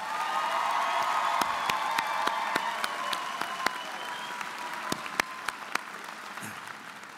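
A large audience applauds graduates at a university winter commencement ceremony in a big hall, sustained clapping with a few distinct sharp claps nearby and faint cheers that slowly taper off.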